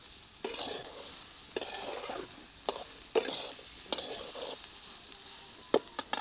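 Umbar cluster-fig bhaji sautés in masala in a pan. A soft sizzle runs underneath while a spoon scrapes and stirs in regular strokes about once a second. Nobody speaks.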